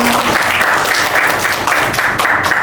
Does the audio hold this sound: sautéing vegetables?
no